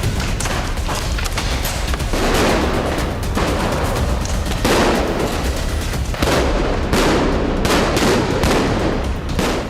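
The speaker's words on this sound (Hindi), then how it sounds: "धमाकों का शोर दूर दूर तक सुनाई देने लगा" Explosions and gunfire at the Al-Aqsa mosque compound make a dense, continuous barrage of loud bangs and booming thuds, rapid overlapping shots crowding the air with no pause.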